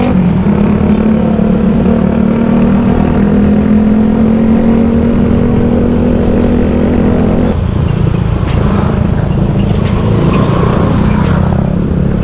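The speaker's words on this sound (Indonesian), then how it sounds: "Jam segini masih macet aja cuy ya." Dense road traffic of cars and motorcycles stuck in a jam, a steady loud engine drone with idling and revving motors close by, the low hum shifting midway as vehicles edge forward.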